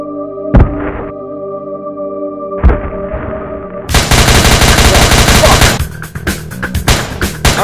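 Gunfire in an SCP video game firefight: two isolated heavy shots with ringing tails over a droning background, then a dense burst of rapid automatic fire followed by scattered shots, loud and close, with shouting voices.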